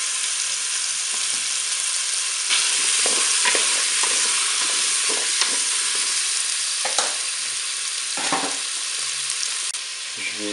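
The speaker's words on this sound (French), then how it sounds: "J'ajoute mes morceaux de courgettes." Zucchini pieces go into beef meatballs sizzling in a Cookeo, a loud close frying hiss with clattering stirs and knocks as the pieces land in the pot.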